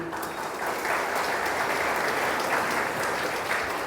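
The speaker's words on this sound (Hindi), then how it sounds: "ताली बजाओ अच्छी तरह।" An audience at a spiritual gathering in Pune claps steadily and densely for about four seconds, a full, even roar of hands with no talk over it.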